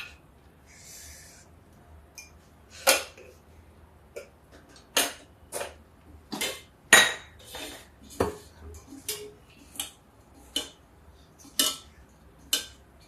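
Spoon clinking and scraping against a bowl while bread pakora batter is mixed, a run of sharp irregular taps and clatters close by, with no talk.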